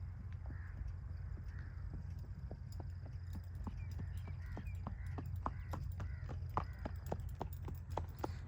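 The mare Amber's hooves clip-clop in a quick, regular gait as she is ridden, close and distinct, over a low rumble of background noise.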